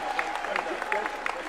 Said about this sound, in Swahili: Wapi makofi ya deputy president wetu?